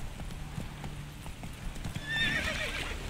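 Horse hooves clip-clopping in The Witcher 3, a quick, fairly faint run of hoofbeats followed by a short whinny near the end.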